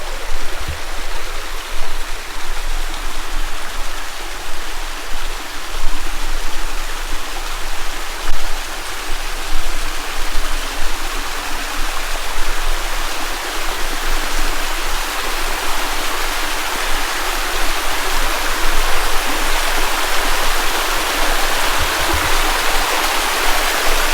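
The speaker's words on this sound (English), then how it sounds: "I'm gonna take you all the way to the waterfalls themselves." Waterfall in Hot Springs National Park in the Ouachita Mountains, Arkansas, roaring steadily and loudly up close, a dense continuous rush of falling water with no voices.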